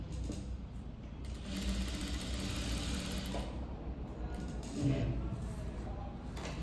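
A sewing machine runs steadily, stitching a princess-cut blouse with a boat neck front and deep back neck, while someone talks over the whirring motor throughout.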